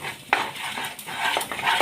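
A spoon scrapes and clinks against a pan while shahi garam masala is stirred into a thick matar paneer gravy, giving short, repeated metallic scraping strokes at close range.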